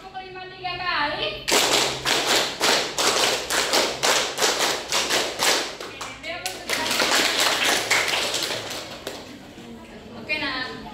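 A primary school class claps in unison, sharp rhythmic claps in counted bursts that speed up, with a short pause midway, close and loud.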